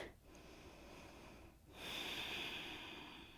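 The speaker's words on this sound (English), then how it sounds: "And breathe." Deep breathing during a yoga stretch, a soft close exhale followed by a fuller, louder inhale, quiet and alone without talk.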